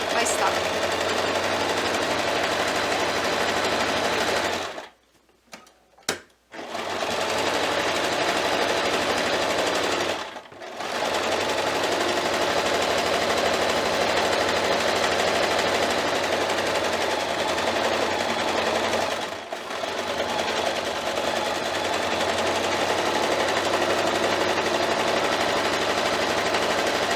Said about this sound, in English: now I'm going to stitch 1/4 inch all the way around my stocking